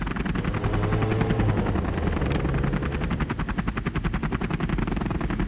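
A Night Hunter attack helicopter lifts off a helipad in a strategy video game, its loud steady rotor chop thumping rhythmically and growing more distinct as it departs, with a brief high zap partway through.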